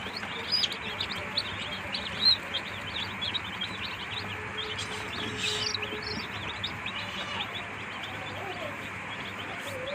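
Tiger chicken chicks keep up a soft, continuous chorus of thin chirps as they are hand-watered one by one, with occasional slightly louder peeps and quiet voices in the background.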